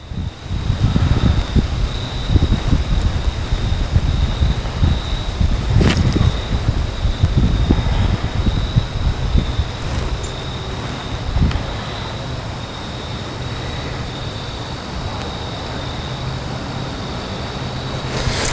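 Wind blowing hard while fly fishing, with heavy rumbling gusts buffeting the microphone for the first half before easing into a steadier, quieter rush.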